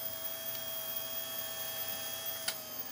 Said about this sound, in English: the fast wind motor runs and runs and runs for no apparent reason